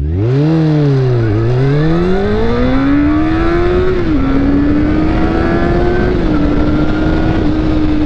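A motorcycle accelerates hard from a standstill to 100 km/h, its engine whine climbing steadily through several gear changes, loud and close with wind rush beneath and no voices.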